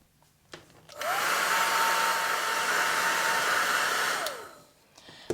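A hair dryer blows steadily at close range for about three seconds, drying acrylic-painted paper, its broadband whoosh rising sharply as it switches on and tapering off as it shuts down.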